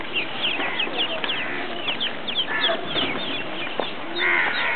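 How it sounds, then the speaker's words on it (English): Hens and chickens at a family farm, the same birds that sit on the eggs, cluck and chatter continuously at close range, with overlapping calls throughout and a busy flock murmuring underneath. "it's not the ducks that sit on the eggs, but it is the hen, the chicken."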